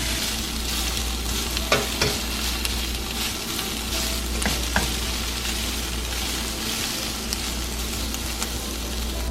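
Tofu fries in a pan with salt and pepper, a steady bright sizzle running throughout with occasional small pops and stirring clicks, close and continuous without talk.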